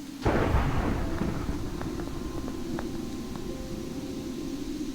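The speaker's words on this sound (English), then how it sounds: "And there seems to be a storm coming our way." In the Weather2 game, thunder from an approaching storm gives a sudden loud crack and then a long rolling rumble. Faint tonal blips sit over the continuous roar.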